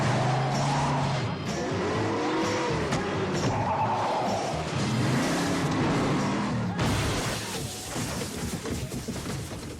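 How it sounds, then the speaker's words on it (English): Film stunt of a car plunging off a cliff: loud engine roar with repeated rising and falling tire squeals and skids over dense rumbling, then a sudden shift to a rougher, broadband crash-like noise near the end. "when the car goes off the cliff"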